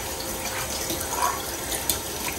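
Tap water runs steadily into a sink while dishes are washed, a close, continuous splashing hiss with a faint clink or two.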